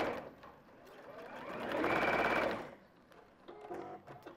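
A sewing machine stitches in a short burst, its rapid needle chatter swelling loud in the middle and then stopping, with faint handling noises on either side.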